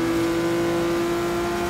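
Car engines racing in Forza Horizon 3 on the Hot Wheels island: a steady droning engine note holding a high pitch, loud and continuous with no talk.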